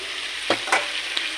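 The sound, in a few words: fried pointed gourd added to a hot pan, sizzling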